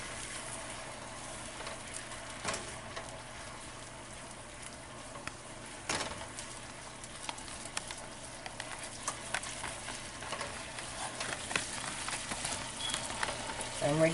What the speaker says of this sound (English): I'm sauteing my onions and my garlic